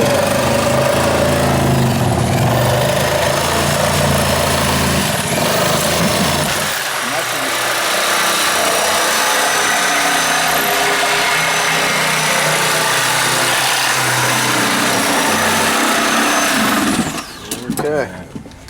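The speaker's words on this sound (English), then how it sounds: "Now you can finish your cuts with the Sawzall because the circular saw won't make it the whole way over to the wall." A reciprocating saw cuts through a plywood kitchen subfloor with a loud, close, buzzing rasp that runs almost continuously, its tone dropping partway through, under occasional speech, and stops abruptly near the end.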